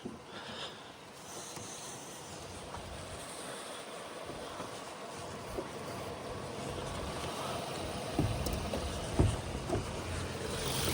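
A Volkswagen Golf 6 1.4 petrol engine (90 kW, DSG automatic) idles in the background with a quiet, steady hum, smooth and low, with a few small knocks near the end.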